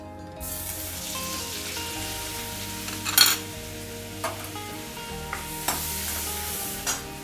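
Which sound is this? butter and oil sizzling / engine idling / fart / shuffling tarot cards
butter and oil sizzling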